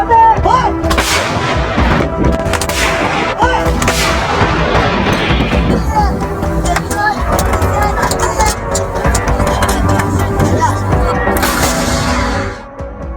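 Artillery fires 203mm shells in a combat zone, throwing out loud booming blasts that follow one another and roll on without a break. Vehicle rumble runs underneath the whole stretch.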